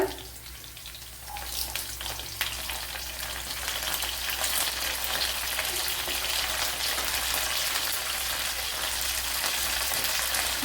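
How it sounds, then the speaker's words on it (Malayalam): Curry leaves dropped into hot oil while making Kerala lemon pickle, a loud, continuous close sizzle that jumps up after the first second and holds steady, with no talking. "കറി ലീവ്സ് ഇട്ട് കൊടുക്കുക."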